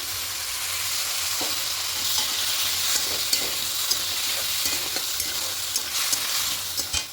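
Bottle gourd and spinach curry sizzling in a pan while it is stirred, a steady close frying hiss punctuated by scattered scrapes and clicks of the spoon, louder toward the end.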